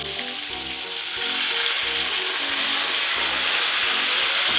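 Orange juice hits a hot pan of cooked sugar and orange zest caramel, bursting into a loud steady sizzle that swells and holds as the liquid reduces, with a faint rhythmic background beat.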